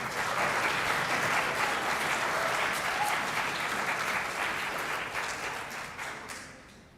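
A crowd at a youth parliament event in Mizoram applauds its media partners: dense, steady clapping fills the hall at full strength, then gradually thins and fades away at the end.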